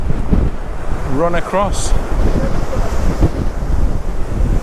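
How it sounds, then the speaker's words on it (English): Big ocean waves roll in on a windy shore at Santa Ponsa, Mallorca, a steady roaring wash of surf and buffeting wind noise across the microphone, with a brief voice speaking partway through. "there's some big waves coming in"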